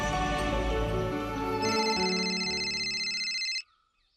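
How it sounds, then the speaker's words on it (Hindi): A telephone in a family home plays a tonal melodic ringtone that repeats for several seconds, shifts to a higher bright pattern midway, then cuts off abruptly; close and clear with no voices. "अरे छोरी फोन उठा,"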